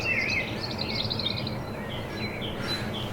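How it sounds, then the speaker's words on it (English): Birds sing at dawn beside a carp fishing pool, thin chirps and warbles sounding faint and distant over a steady background hiss. "Morning bird song. Can't beat that."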